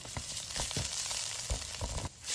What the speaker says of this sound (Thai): ตั้งกระทะใส่น้ำมันลงไปครับ จากนั้นใส่พริกแกงลงไปตามด้วยกะปิเล็กน้อยครับ ผัดให้เครื่องแกง สุกและส่งกลิ่นหอมเลยนะครับ